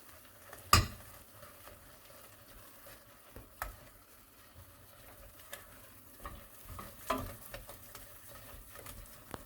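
A spoon works choux pastry dough of flour and water around a pan, giving quiet, irregular scraping and soft patting, with a few sharper knocks against the pan over a faint background and no voices.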